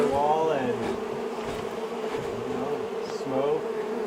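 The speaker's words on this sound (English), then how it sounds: "Destroy a wall and" Honey bees buzz from a hive exposed inside a wall during a bee rescue cutout: a steady, close, droning hum that swells and dips slightly in pitch, with no talk over it.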